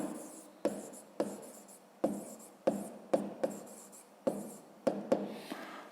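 Pen or pencil writing numbers by hand on paper while solving a fifth-grade math exercise, heard as a run of close, quiet scratchy strokes with sharp taps at each new digit, about ten strokes across the stretch, with no talking.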